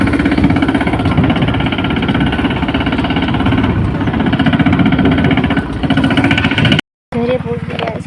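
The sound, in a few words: tractor engine arriving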